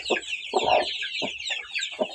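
Brahma chickens cluck in short, close, repeated bursts, about five clucks in quick succession over a faint background.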